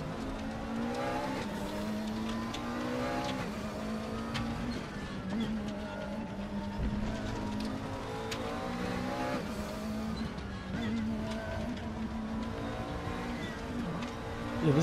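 A 2014 McLaren MP4-12C GT3 race car in RaceRoom at the Nürburgring drones steadily at high revs through corners, its engine tone rising and dipping with shifts, while a voice talks over it.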